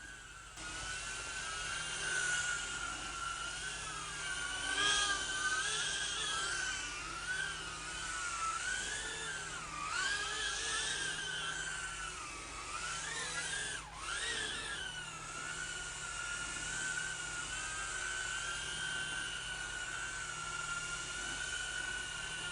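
A FuriBee F36 quadcopter hovers close by, its small rotors giving a steady high-pitched buzz that rises and falls in pitch with throttle changes, continuous throughout with no talking.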